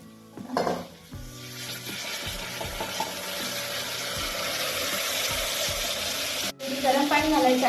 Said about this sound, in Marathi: आता मी ही डाळ घालते फोडणीमध्ये.